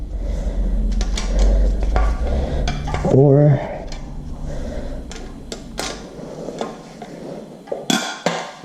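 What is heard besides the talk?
creaky K20A2 engine being turned over by hand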